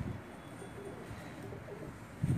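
A large-boned pigeon with dry feet gives soft, faint coos against a quiet rooftop background.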